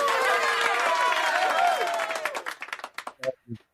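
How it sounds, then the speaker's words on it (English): A round of applause closes an interview show, a brief burst of clapping overlapped by a speaking voice, then thinning into a few scattered claps before stopping. "we want to give you a round of applause"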